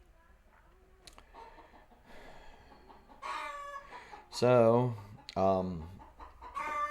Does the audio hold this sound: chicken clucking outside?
yes